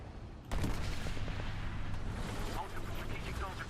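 Artillery fire in War Thunder during a tank battle, with a sudden heavy blast followed by a sustained rumbling barrage of rolling booms, moderately distant, with a voice talking over it.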